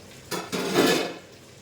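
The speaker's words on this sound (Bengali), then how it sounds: "এই ডালটা এবার পুরোপুরি ভাবে এর সাথে কষবো" A spatula scrapes and stirs mung dal with a fish head in a pot, a few close clattering strokes with a soft frying sizzle underneath.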